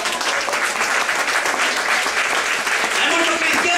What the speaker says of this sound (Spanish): Denos un aplauso a Cristo en esta tarde.